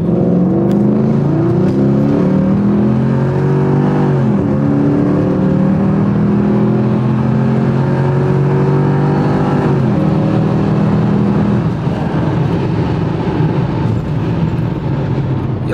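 A driver's first car accelerates hard with almost no traction, its engine roaring loud and close as the pitch climbs in repeated rising sweeps through the gears, steady and dominant throughout.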